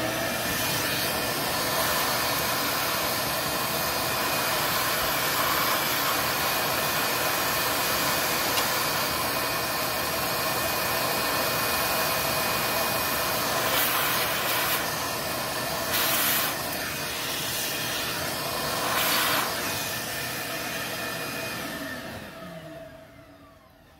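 A shop vacuum runs continuously and loudly up close, sucking metal shavings out of a freshly tapped valve cover bolt hole on a Honda/Acura engine, with brief surges before it winds down at the end.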